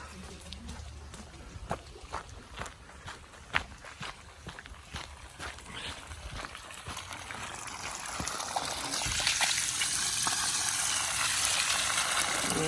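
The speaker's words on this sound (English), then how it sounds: "we've got water going in through the thermostat this time, coming out through the bottom" Footsteps shuffle early on, then a steady rush of water gushes out of a car engine block during a reverse radiator flush, entering through the thermostat and pouring from the bottom, flowing loudly to the end.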